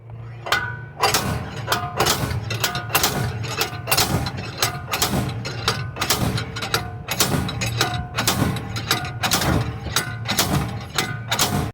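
A ratchet tightening lug nuts onto a wheel bearing puller on a 2003–2005 Honda Pilot rear hub, a continuous run of rapid metallic clicks in repeated bursts, close and busy.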